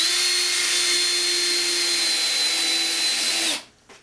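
A power drill drives screws into a piece of drywall, a steady loud whine held for about three and a half seconds before stopping abruptly, with no talking.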